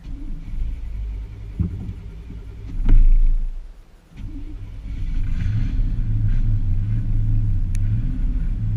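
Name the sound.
car engine restarting and running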